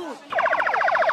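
An ambulance siren on a Cairo street amid injured people being ferried away near Tahrir Square, a loud rapid warbling wail cutting in abruptly and cycling fast after a brief voice.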